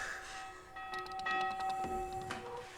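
A bell ringing on and off, heard in a scene of a fantasy show, with long sustained metallic tones fading and returning under faint background noise and scattered clanks.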